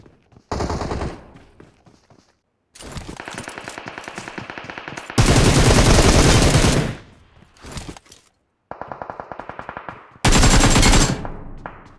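Loud automatic gunfire from the video game PUBG rings out in several rapid bursts separated by brief silences, each burst a dense, sharp rattle of shots, with no speech.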